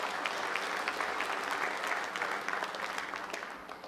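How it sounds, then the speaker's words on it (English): Dense audience applause for a commencement speaker at a graduation ceremony, sustained rapid clapping from a large crowd that fades slightly toward the end. "How about another round of applause for Dr. Robin?"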